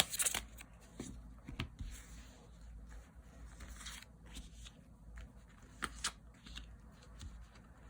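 Tarot cards are shuffled and drawn: soft, quiet riffling and sliding bursts with scattered taps and brushes, close and intimate.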